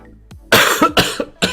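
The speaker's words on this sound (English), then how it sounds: "This cough is just lingering from when I was sick." A short burst of three or four harsh coughs in quick succession, close and loud, with a small throat sound just before.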